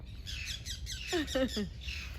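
Several short calls, chirps and squawks from pigeons and other birds in quick succession in a park in Mexico, moderately close, with soft background murmur.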